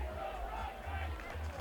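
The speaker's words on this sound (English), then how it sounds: "So right now there's a Let's Go Roughnecks cheer" A crowd at a Dallas Roughnecks versus Austin Sol ultimate frisbee game chants a rhythmic Let's Go Roughnecks cheer, heard from a distance as a steady, muffled roar of many voices.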